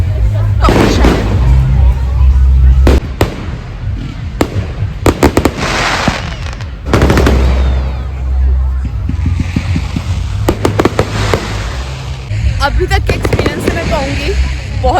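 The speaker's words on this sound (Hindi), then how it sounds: "बहुत ज़्यादा पटाखे फूटे" Fireworks bursting on Bonfire Night (Guy Fawkes Night) in the UK, with a steady run of sharp cracks and booms, some near and loud, others farther off, over a continuous crowd rumble and faint voices.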